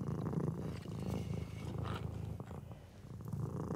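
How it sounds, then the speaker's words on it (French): A cat purrs on a duvet, a soft, close, continuous rhythmic rumble with no talking. "Le chat ronronne sur ma couette."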